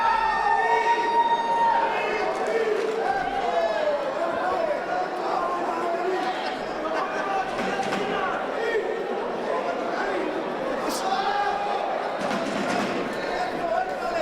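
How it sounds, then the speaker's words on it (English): Restless boxing crowd at a Tony Hirsch vs Manuel Garcia fight, a steady murmur of chatter and scattered calls filling the arena, with commentary talking over it throughout. "Crowd getting a bit restless now."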